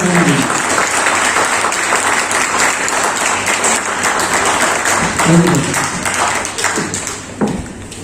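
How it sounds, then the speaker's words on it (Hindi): A seminar crowd at a health MLM event in Satna, India claps continuously, a loud, dense patter of many hands filling the hall, with a brief voice surfacing in the middle and the clapping thinning toward the end. "कुछ भी ताली बजा रहे हैं"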